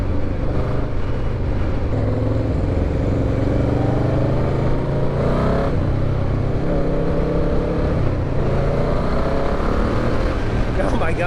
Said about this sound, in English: Yamaha has always made great sounding bikes, and this is one of them.